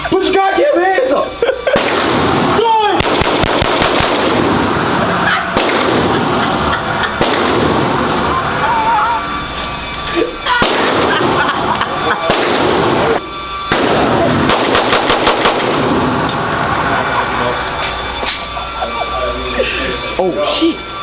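Fully automatic gunfire at an indoor gun range comes in several rapid, loud bursts of closely spaced shots, with voices heard in the gaps between strings of fire.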